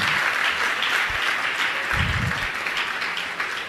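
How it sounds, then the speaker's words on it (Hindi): Audience applause at a Jain religious discourse gathering, a full, steady burst of many hands clapping at once, loud and sustained with slight fading near the end. "तालियां तालियां तालियां"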